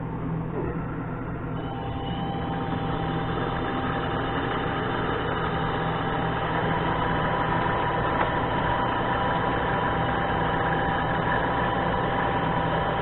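A mini lathe runs at just under 500 RPM while cutting threads, giving a steady, close motor hum and whine with a faint rattle, continuous for the whole stretch without talk.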